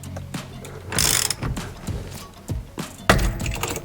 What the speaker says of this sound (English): I got the steering puller set up here, and all you're going to do is you're going to wind on this center